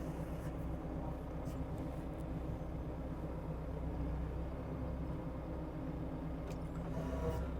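A telehandler forklift reverses away from its load, its engine giving a steady, low rumble that stays even and fairly close throughout.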